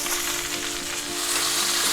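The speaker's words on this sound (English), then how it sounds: "Nothing like the sound of sizzling steak in a frying pan, especially a cast iron frying pan." Close, loud sizzling of chuck roast steak frying in a hot cast iron pan, a steady crackling hiss with no talking.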